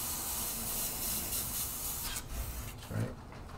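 An airbrush hisses steadily as it sprays paint through a texture stencil, a close continuous spray that breaks off briefly near the end.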